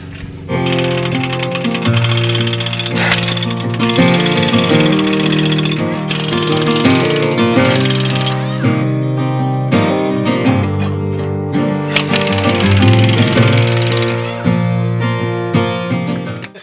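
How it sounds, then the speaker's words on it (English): A power impact tool rattles loose bolts on a Chevrolet Silverado lift block, loud and close, in repeated bursts of hammering with brief pauses between them. "So I'm going to take off these bolts, drop this on both sides evenly, and we'll slide this block out of here"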